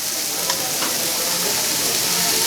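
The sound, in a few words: beef belly and brisket sizzling on grill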